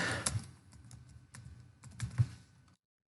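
A password and captcha are typed on a computer keyboard, giving a quick, irregular run of soft, close key clicks that stops abruptly near the end.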